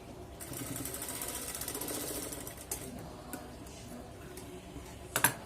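Sewing machine top-stitching a Rajputi kanchali with a presser foot, a faint fast ticking mechanical run that slows and stops, followed by a few soft knocks.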